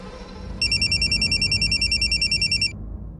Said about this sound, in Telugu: మీ మమ్మీ దగ్గర నుంచి ఫోన్ వచ్చింది